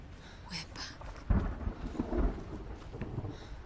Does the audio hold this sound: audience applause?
no